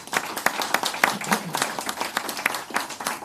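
A crowd applauds at a UNICEF initiative launch event in Jamaica, steady clapping from many hands at moderate distance with sharper individual claps standing out, continuing throughout without any talk.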